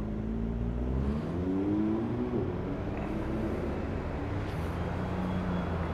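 A loud Porsche GT3 engine roars nearby, its pitch climbing through gears as it accelerates past, with steady road rumble throughout.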